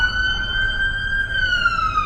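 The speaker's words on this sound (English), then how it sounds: "siren behind me. It's very, very loud" A loud siren wails steadily throughout, its high tone sweeping slowly, with faint traffic rumble beneath.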